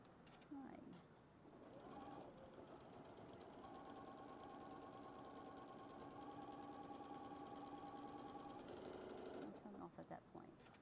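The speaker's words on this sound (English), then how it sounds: "now I'm going to go ahead and stitch right there on that line" A sewing machine stitching quilt block pieces runs in one steady, close whirring burst for several seconds, with short starts and stops at either end.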